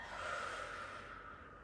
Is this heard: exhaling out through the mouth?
yes